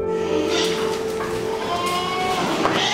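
Saanen goats on a Nepalese agricultural research farm bleat repeatedly, their nasal, wavering calls close by and overlapping against steady barnyard background noise.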